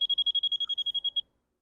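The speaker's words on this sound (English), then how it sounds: "little beeps" A Christmas tree incandescent light tester gives a rapid string of about fourteen high, clean electronic beeps, close and steady, before cutting off into silence.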